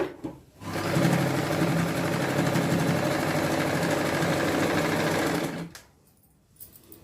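A sewing machine stitching a semi-stitched ghagra, a close, loud, steady whirring rattle that runs continuously for several seconds before stopping abruptly.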